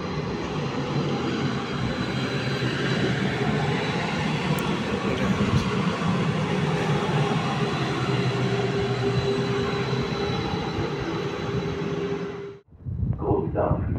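Train noise at the Kassel-Wilhelmshöhe railway station platform, a loud steady rumble filling the first twelve seconds before cutting off abruptly, followed by a brief platform announcement voice.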